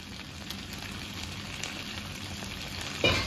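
Oil sizzles softly and steadily in a pan as stuffed green chili peppers pan-fry, a faint continuous crackle with a brief louder burst near the end.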